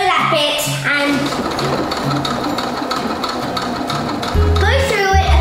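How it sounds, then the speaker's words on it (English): A sewing machine stitches fabric in quick mechanical bursts, a rapid rattling whir that starts and stops near the listener, with talk running over it. "Then you push it under and you sew that bit"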